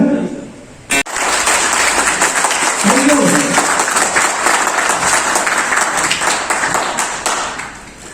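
An audience at a health seminar in Satna, India breaks into sustained applause, dense clapping from many hands that continues steadily after a sharp start, with voices mixed in.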